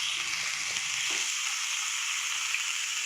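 Chopped onion frying in oil with cumin and asafoetida over a low flame, a steady close hiss and sizzle holding evenly throughout with no talk.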